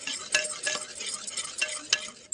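Chicken handi masala being sautéed in a handi pot, a steady close fry crackle broken by several louder scraping stirs, with no voices.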